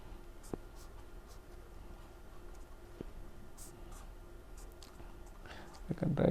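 Pen writing a chemistry formula on a board or paper during a lecture on sigmatropic reactions, a faint continuous scratching with a few light taps, fairly quiet under low room noise, ending with a brief louder knock.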